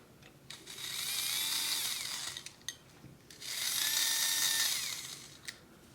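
An old 1976 Mego Fonzie toy motorcycle motor runs on a 9-volt battery, giving a thin, high whir in two sustained bursts with a short pause between and small clicks around them.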